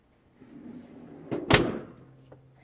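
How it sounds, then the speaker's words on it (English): A refrigerator door aboard a 2021 Tiara Yachts 38LS is pulled open and pushed shut, with a soft rattle and then a firm close at the finish, heard nearby with no voices. "So here's your fridge."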